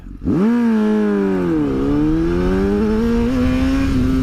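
A 1000cc Honda CBR 1000RR FireBlade motorcycle accelerates hard in first gear. The engine is close and loud, its pitch climbing steadily with a brief dip partway through, and no one talks over it.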